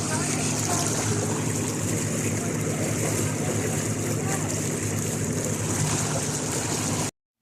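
Steady wash of water and wind around a moored boat on a San Pedro boat trip, a dense continuous rushing roar with a low engine-like hum beneath it, loud and unbroken until it cuts off abruptly.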